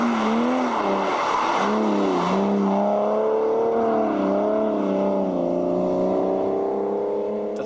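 An Aston Martin Vanquish on a racetrack, its engine droning loud and close with a steady rising and falling pitch as it accelerates through long gears, with faint tire noise and no voices.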